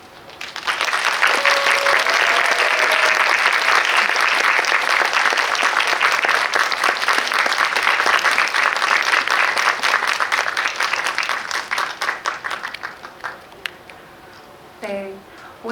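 Loud, sustained audience applause welcoming a Korean film's director and cast onstage at a movie talk event, steady clapping that fills the room for about twelve seconds before tapering off into scattered claps.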